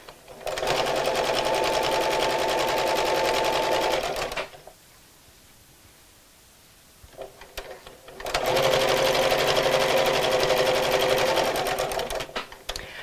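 Home sewing machine stitching fabric for a Christmas gift sack, running in two long steady bursts with a quiet pause between, loud and close.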